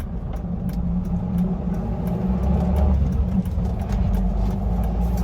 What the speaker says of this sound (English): I'm shifting from second to third at 27 miles an hour.